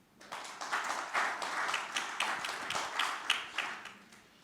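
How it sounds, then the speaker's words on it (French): A room full of people clapping steadily, a dense patter of hand claps that swells and holds for several seconds. "On peut les applaudir tous les deux."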